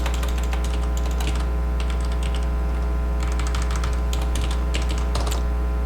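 Code for a React app is typed on a computer keyboard in bursts of rapid, close key clicks separated by short pauses, all over a loud constant hum, with no one talking.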